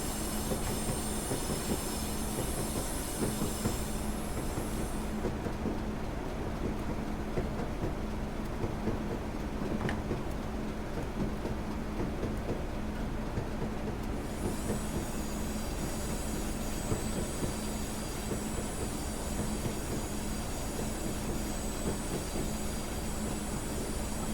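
Locomotive running steadily in the Train Simulator game on the West Highlands line between Fort William and Mallaig, a continuous loud rumble with rail clatter and a sustained tonal hum, no talking.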